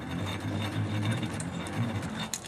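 A ceiling fan motor rewired as an alternator whirs as it is spun by hand with a pen, giving a low steady mechanical hum with faint rattles and ticks.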